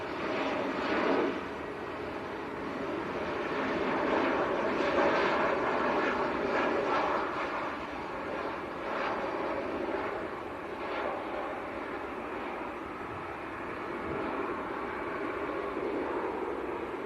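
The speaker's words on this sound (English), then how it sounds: "Typical very nose-up landing from the Embraer." An Air Portugal Embraer 190 passenger jet landing at Manchester Airport after a flight from Lisbon makes a broad, sustained engine roar and rushing wash that swells and eases gently over several seconds, heard from a distance with no voices.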